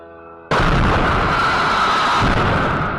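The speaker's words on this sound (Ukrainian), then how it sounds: "Судячи із кадрів, із того, як воно приємно горіло та вибухало" Drone strike on a Russian alcohol distillery: after a quiet tonal intro, a sudden loud blast bursts in and rolls on as a dense, roaring rumble of explosions and fire for several seconds.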